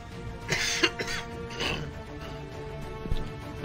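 A few sharp coughs break out near the start, close to the microphone, then things fall quiet apart from a faint background hum and one soft click.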